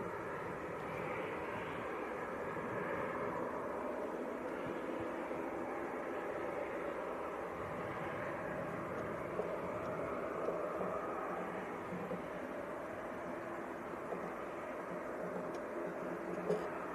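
An EasyJet Airbus A319 airliner from Parma at Leeds Bradford Airport gives a faint, distant, steady jet roar that lingers evenly throughout.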